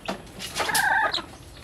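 Newborn chicks and hens being fed, a short burst of soft clucking and chirping calls, close and moderately loud with no talk.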